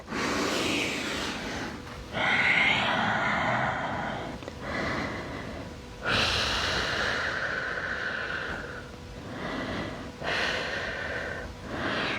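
Deep, slow breaths taken while resting in child's pose in a Pilates session, long airy inhales and exhales close to the microphone, about three breath cycles with a faint snort.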